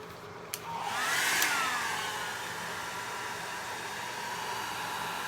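A heat tool runs on its low heat setting, blowing over alcohol ink on Yupo paper, a steady airy whoosh close by with a brief click as it starts, constant and alone.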